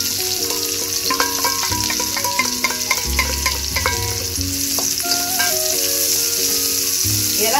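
Loud, continuous sizzling in a pan with repeated stirring and scraping, as sliced onion fries, over soft background music.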